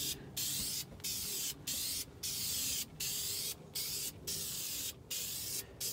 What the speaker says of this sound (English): And I'm gonna give it a little blast of paint, just so it looks a little better.